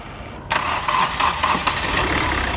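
An overhauled Hyundai i20 engine cranks and fires at about half a second, then settles into a steady, close idle for the remaining two seconds with no talk over it.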